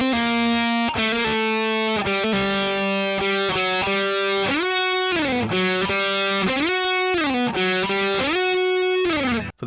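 Distorted electric guitar plays a tab line in standard tuning: a continuous solo phrase with slides and bends, loud and close, alone without talk.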